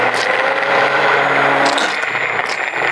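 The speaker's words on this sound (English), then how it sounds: "I just have to put my immersion blender in there and it should blend really well" An immersion blender whirs in a bowl of homemade tomato sauce for Indian cooking, a loud steady motor drone with clattering knocks and splashy bursts as it churns.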